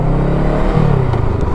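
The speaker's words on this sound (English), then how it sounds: "I've got the standard back box exhaust on." Honda Rebel 500 motorcycle on its stock back box exhaust, revving steadily at close range with a loud, continuous engine note and rising whine throughout the brief burst.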